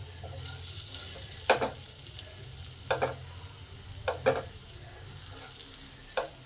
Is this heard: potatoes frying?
yes